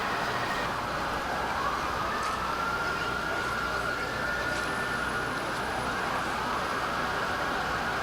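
Emergency vehicle sirens wail, rising and falling over a dense, noisy New York street roar, constant and fairly loud from start to finish.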